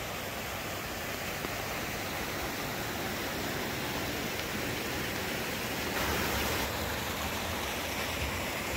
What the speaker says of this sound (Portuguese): a cascata